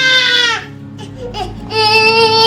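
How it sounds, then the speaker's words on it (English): A 15-month-old toddler cries loudly in a tantrum, sustained wailing near the microphone with a short break of softer sobs in the middle. "he's just showing tantrum because the volume is off"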